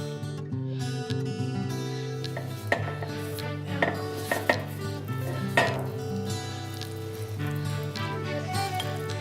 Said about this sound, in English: I'm going to mix it all together with some runny honey and butter